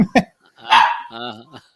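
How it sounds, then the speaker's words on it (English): A dog barks twice in quick sharp yips, then lets out a longer, whining bark-howl nearby and fairly loud, in a quiet room. "Babe, can you sort the doggy out?"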